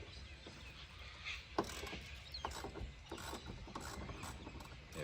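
Socket ratchet turning 14mm seat bolts, quiet repeated pawl clicks and faint mechanical rattling up close, no talking.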